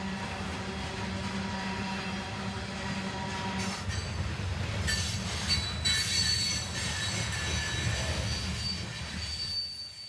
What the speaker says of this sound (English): After we filmed this unit coal train trundling through Brunswick station